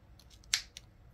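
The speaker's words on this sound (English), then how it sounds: "I'm going to cut my yarn." Scissors snipping through yarn during crochet, one sharp close snip with a small click after it, in a quiet room.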